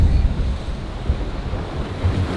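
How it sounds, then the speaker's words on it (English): Ocean waves surge into a port on Itbayat, Batanes, rumbling loudly with heavy low wash and wind buffeting the microphone, pulsing in irregular surges without talk. "The waves are coming straight in."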